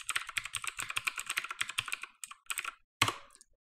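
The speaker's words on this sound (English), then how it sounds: "I log in as my root user and type my private key passphrase that protects my private key" Fingers type a passphrase on a computer keyboard, a close, quick run of crisp key clicks that slows into a few scattered taps and ends on a final firmer keystroke.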